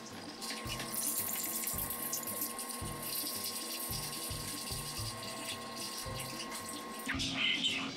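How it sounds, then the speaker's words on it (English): Homemade quinine liquid is poured into a glass jar in a steady, continuous splashing stream, with a low rhythmic pulsing underneath and a brief clink near the end. "So now we're going to take this and pour it into a jar for storage inside of our fridge."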